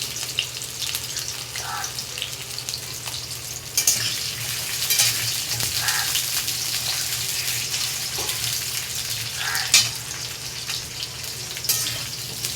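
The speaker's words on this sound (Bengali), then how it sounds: "পেঁপেগুলো ওইভাবে একইভাবে ভেজে আমি তুলে নেব" Papaya pieces frying in hot oil, a constant crackling sizzle with intermittent stirring and clattering bursts, close and unaccompanied by speech.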